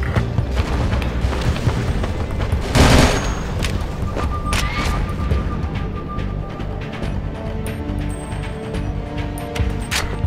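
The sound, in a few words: gunfire in video game Battlefield 2: Modern Combat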